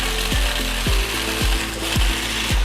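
A food processor pulses garlic and Dijon mustard into a smooth puree for a herb crust on prime rib. It gives about five short, rhythmic mechanical bursts at an even pace, close and loud, with no talking.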